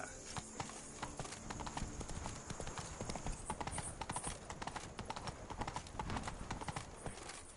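Horse hooves clip-clopping at a steady galloping rhythm in The Witcher 3, continuous and fairly faint with a busy game soundscape behind it.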